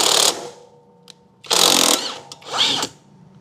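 A power tool works on a 17 mm nut on a motorcycle during luggage bracket installation, in three loud bursts of whirring and rattling separated by quiet gaps, with no talking.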